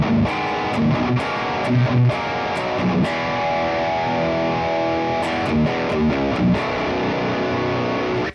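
High-gain distorted electric guitar from a Fractal Audio FM3 rhythm preset, playing loud, tight chugging riffs with sustained chords and choppy palm-muted stops, dense and upfront throughout with no voices.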